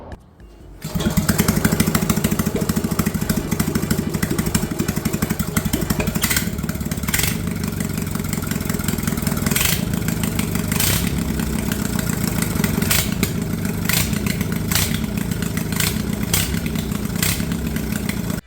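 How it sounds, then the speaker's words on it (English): A small lawn mower engine with dual carburetors idles steadily after a brief start, a continuous mid-pitched chugging hum with occasional sharper pops, close and loud throughout. "This engine is running surprisingly well with those dual carburetors."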